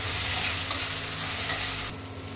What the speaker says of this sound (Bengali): এবার রসুন বাটাটাকে দিয়ে এরকমভাবে ভেজে নেব।